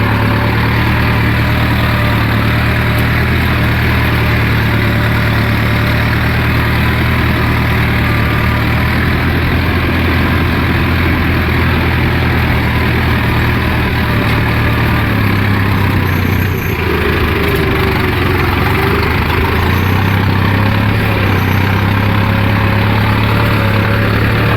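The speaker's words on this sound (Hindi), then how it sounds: "यहाँ पर ऊंची नीची जगह है तो आप ट्रैक्टर को थोड़ा धीरे कर सकते हैं" A tractor engine runs steadily during soybean sowing on an uneven field in Madhya Pradesh, a loud, close, constant low drone with a brief dip in the middle and no voices.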